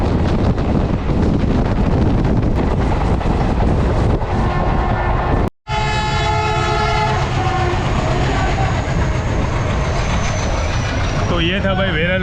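A passenger train runs continuously and loudly on an Indian line toward Veraval in Gujarat, with steady rumble and rail noise and a brief drop around five seconds, then ringing tonal squeal and wind buffeting.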